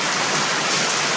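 Rain pours steadily in Bali, a dense, even hiss that stays loud and continuous with no voices.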